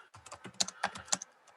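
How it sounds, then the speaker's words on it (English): Rapid keystrokes clatter on a computer keyboard during a conservation commission meeting, a close, quiet burst of irregular clicks with no voices. "once I'm done typing here"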